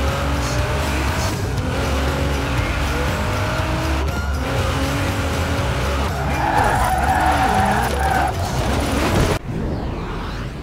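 Car drifting in Forza Horizon 4, engine roaring loud and steady with sustained tire squeal and skidding throughout, cutting off abruptly near the end.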